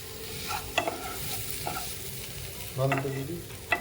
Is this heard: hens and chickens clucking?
no